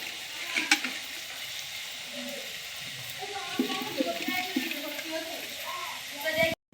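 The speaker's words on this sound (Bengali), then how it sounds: "ভাজাটা সব ভালো করে কড়া করে ভেজে নিয়েছি" Fish fries crisp in hot oil in a wok, making a dense, continuous crackle and sizzle with scattered pops and stirring. Someone talks over it.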